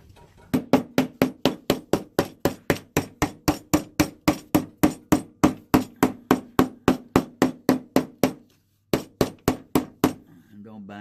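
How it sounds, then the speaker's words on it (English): A little hammer taps repeatedly on a hot glue gun stand being built, a long run of sharp, evenly spaced knocks close to the microphone, with a brief pause before a few final taps. "Now you can take a little hammer and tap it."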